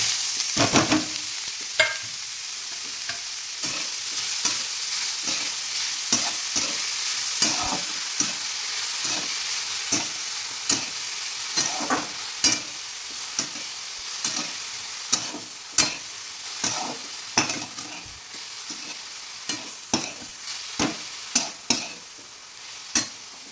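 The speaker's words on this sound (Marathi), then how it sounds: "तुपात गाजर परतायचं" Grated carrot fried in hot ghee while being stirred for carrot halwa, a continuous sizzle broken by regular scraping strokes of a spatula against the pan that grow more frequent and distinct toward the end.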